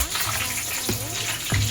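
Two or three garlic cloves hit hot oil already tempered with cumin, giving a loud, close, continuous sizzle with a few sharper spits and pops over the short stretch, with no talking.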